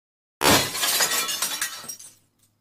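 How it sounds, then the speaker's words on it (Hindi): A cheap phone smashes, its glass shattering in one loud, close crash with a scatter of tinkling fragments that fade out within about two seconds. "गाइस फोन तो टूट गया।"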